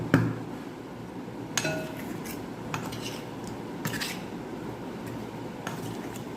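A spoon scrapes and clinks against a glass bowl while mango pickle is mixed, giving a few sharp taps spaced apart over soft rubbing, quiet and close with no talking.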